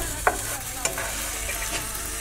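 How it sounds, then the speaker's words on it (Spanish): An arepa topped with ham sizzles in a frying pan as the cheese melts, giving a continuous close crackling fry with a couple of sharp scraping stirs near the start. "lo llevamos a la sartén a que se derrita"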